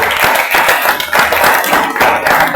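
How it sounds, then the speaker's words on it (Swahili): A church congregation claps loudly and energetically together in a fast, steady rhythm. The clapping is close and continuous, with a faint crowd murmur underneath. "Pigia Bwana Yesu makofi."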